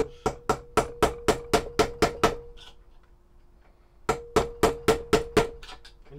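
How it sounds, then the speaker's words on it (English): Sharp metallic hammer blows on an old screwdriver used as a chisel between drill holes in machete steel, in two quick bursts of about eight strikes each, separated by a pause, ringing close and loud. "I take an old smashed up screwdriver and I chisel between the"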